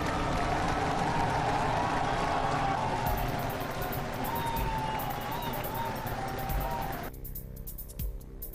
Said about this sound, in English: to a roar of approval from the crowd